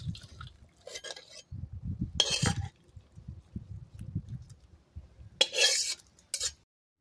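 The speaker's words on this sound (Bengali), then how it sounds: "তরকারিটা ঢেলে নেব।" Fish and cauliflower curry scraped and poured from a kadai, heard as intermittent metallic scraping and clinking of a spoon against the pan with soft liquid sloshing, close and fairly quiet, in several short bursts.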